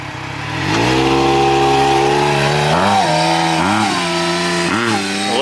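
A supercharged Yamaha YXZ side-by-side engine roars loud and close, holding a high steady pitch and then revving up and down in several quick surges with supercharger whine, no talking.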